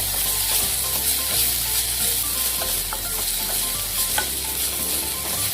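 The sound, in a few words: onions frying in a pan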